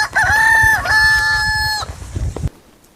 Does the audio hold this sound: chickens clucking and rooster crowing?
yes